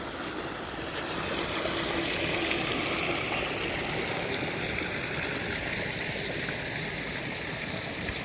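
Irrigation water flows steadily through a channel beside green rice fields in Taiwan, a continuous even rush and trickle heard up close, with no voices.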